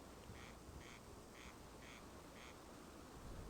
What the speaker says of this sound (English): I heard a duck quacking.